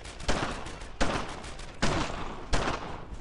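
Gunfire in a World War II shooter video game: four loud bursts of rapid shots at roughly even intervals, close and dense, with no talking over them.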